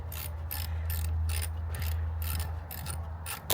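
Ratcheting wrench clicks in quick repeated bursts as 10 mm bolts are loosened on a Craftsman GT5000 riding mower, close and fairly loud over a steady low hum.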